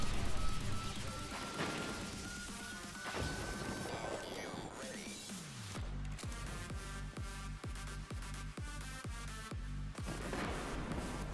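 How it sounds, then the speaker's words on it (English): Hand cannon gunfire in the Destiny video game, a run of sharp, evenly spaced heavy shots in quick rhythm following a rising whoosh, fairly quiet. "I like this hand cannon."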